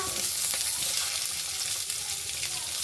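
Onion, garlic, ginger and tomato fry in hot oil with a continuous close sizzle, broken by the occasional scrape of stirring, and no talking.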